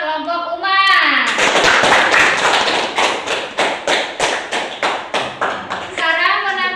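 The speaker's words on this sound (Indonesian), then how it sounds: "Tepuk tangan buat kelompok umat." Classroom students clap together for a student group during a teaching practice session, a dense burst of hand claps that settles into a steady rhythmic clapping pattern, with children's voices chanting briefly before and after.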